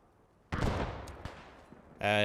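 Strafing-run gunfire in the video game Post Scriptum, set during Operation Market Garden: a sudden loud burst of rapid aircraft gunfire that roars, then fades over about a second and a half before another loud sound cuts in.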